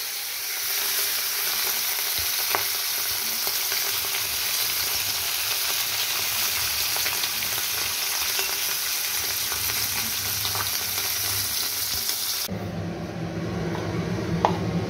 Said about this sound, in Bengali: অল্প অল্প করে মাছ ভেজে নিচ্ছি